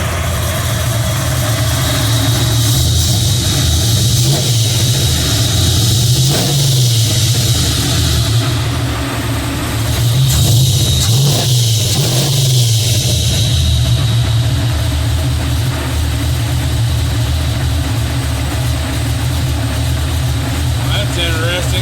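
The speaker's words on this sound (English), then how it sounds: "4 holes in the butterfly and still idling through down low" A carbureted engine with four holes drilled in its AVS2 throttle blades idles steadily and loudly throughout, with a low lumpy rumble that rises and dips slightly a couple of times.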